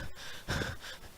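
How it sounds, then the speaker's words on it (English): Labored breathing comes in heavy, wheezing breaths: a short rasp, a sharp pause, then a longer strained inhale, close and audible. "D9035's breathing grows labored"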